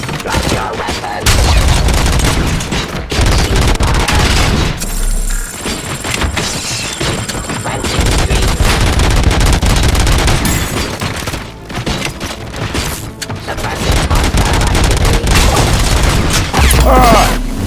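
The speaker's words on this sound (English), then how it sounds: "Gunshots? What's going on?" Gunfire rages in the RoboCop: Rogue City video game: loud, dense bursts of automatic shots and booming impacts pile up continuously, with crashes and thuds mixed in and brief lulls between volleys.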